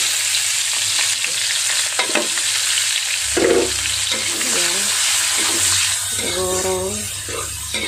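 Onions dropped into hot oil left over from frying fish sizzle and crackle steadily, with stirring scrapes and a brief voice over the cooking; the frying is loud and continuous throughout.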